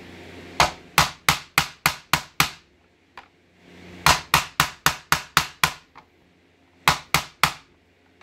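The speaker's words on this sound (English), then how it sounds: "I like to use a mallet with a rubber thing or plastic instead of metal" A rubber or plastic mallet drives a 1-inch belt hole cutter through leather, struck in three quick volleys of sharp close knocks, six or seven blows each, separated by short pauses.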